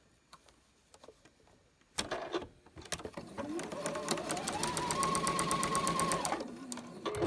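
Sewing machine stitching patchwork pieces for a pinwheel cushion block, starting with a few faint handling clicks, then a steady fast whirring run of stitches lasting several seconds before slowing to a stop, close and alone.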